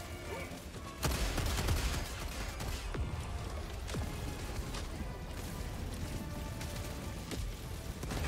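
Automated sentry turret in Helldivers 2 firing amid a chaotic battle against swarming bots, a dense sustained roar of rapid gunfire with sharp reports and crashes layered throughout, loud and continuous.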